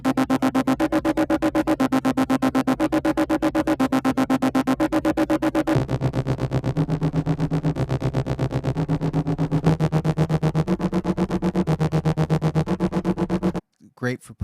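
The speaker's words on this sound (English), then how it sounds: "what these are just repetitive synthy loops that you hear a lot in action music these days" A repetitive synth pulse loop from the Kontakt Hybrid Injection library for action music, built on rapid, evenly chugging pulses that shift pitch every few bars. It is loud and driving, then stops abruptly near the end before a brief voice.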